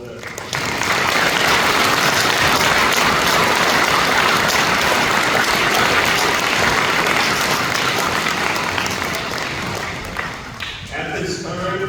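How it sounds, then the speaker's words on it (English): Sustained, loud audience applause fills a veterans salute ceremony at Knox County R-1 school, a dense steady clapping that holds for about ten seconds before tapering off near the end. "Please join me in a round of applause for all of them."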